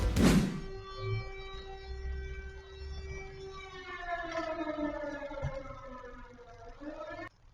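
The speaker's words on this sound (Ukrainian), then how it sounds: "Зараз ви чули повітряну тривогу" An air raid siren drones in a long, rising and falling tone, heard from a distance through a wireless security camera's microphone after a brief thump at the start.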